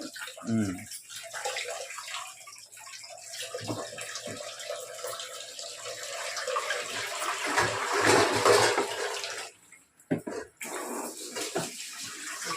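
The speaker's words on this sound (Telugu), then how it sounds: "అల్లం నానబెట్టాయి కదా, అది కడుగుతున్నా" Water runs and splashes continuously as soaked ginger is rinsed and scrubbed by hand, with a few brief pauses near the end.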